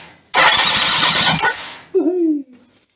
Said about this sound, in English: And there we go, one fully working starter.